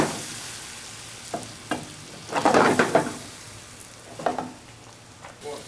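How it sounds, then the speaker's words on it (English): Wild boar hash with mushrooms, onions and peppers cooking in a pan, with soft bursts of sizzling and stirring that rise and fade in a few short clusters, close and fairly quiet. "let this cook down so our mushrooms soften and our onions become caramelized and translucent"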